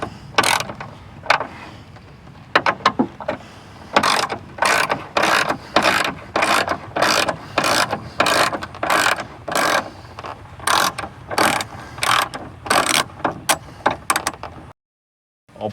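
A hand ratchet clicks loud and close in rapid bursts of regular strokes, backing out the last hood bolt on a Bronco fitted with a fiberglass hood. It keeps going for most of the clip, then stops abruptly.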